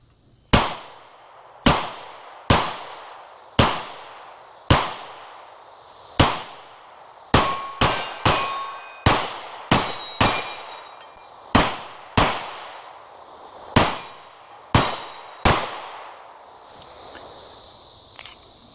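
CZ Shadow 2 Carry pistol fired in a steady string of about fifteen sharp, loud shots, evenly spaced at first then quicker in the middle, each with a short ringing decay, no talking.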